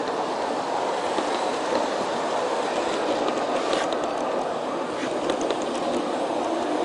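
A G-scale USA Trains model train pulled by SD70 locomotives with intermodal cars and boxcars rolls along an outdoor layout, giving a steady close rumble with faint clickety-clack of wheels over rail joints throughout, no voices.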